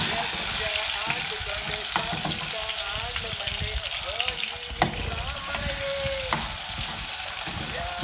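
Chopped onions sizzle loudly in hot oil over a high flame for Mumbai poha, a steady close crackle with occasional sharper pops and utensil clatter.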